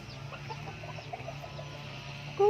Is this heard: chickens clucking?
yes